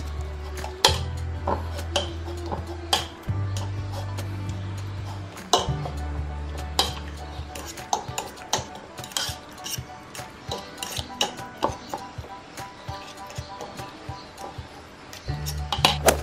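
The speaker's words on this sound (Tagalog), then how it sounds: "Then, crush also the sardinas" A metal utensil presses and scrapes sardines into crushed tomato in a pan, giving repeated irregular clinks and taps over a low simmering background, with brief speech in places.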